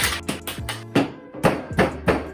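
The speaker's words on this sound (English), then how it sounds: "And now we're ready to shake it up." A cocktail shaker being shaken produces a rapid series of sharp, close percussive knocks, about eight rhythmic rattling hits of ice against the tin over a couple of seconds.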